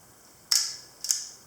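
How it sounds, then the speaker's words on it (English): The shutter button on a Kodak Brownie Hawkeye box camera, which takes 620 roll film, is pressed twice, giving two crisp, close mechanical clicks about half a second apart against a quiet background. "Here's the shutter button here."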